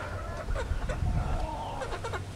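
Chickens clucking steadily close by on a Philippine farm after a typhoon, a continuous busy flock chatter with repeated short clucks and no talking.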